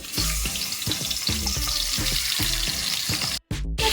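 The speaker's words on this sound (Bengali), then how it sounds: "এবার আমি মাছগুলোকে ভেজে নিচ্ছি" Salted, turmeric-coated fish frying in hot oil in a pan, giving a loud, close, crackling sizzle with rhythmic bursts, briefly cut off by a short gap near the end.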